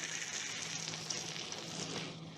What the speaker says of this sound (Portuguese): Deixe fritar só um pouquinho ali.